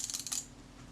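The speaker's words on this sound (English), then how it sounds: "It does cock," A Voigtländer Bessamatic camera is cocked, giving a quick run of small metallic ratcheting clicks in the first half second, close and fairly quiet, fading into a soft hum.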